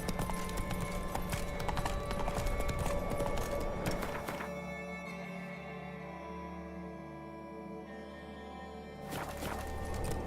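Hooves of the horse Roach clip-clop at a walk in a video game, a steady close rhythm of hoofbeats over a game soundscape, fading into a quieter stretch before rising again.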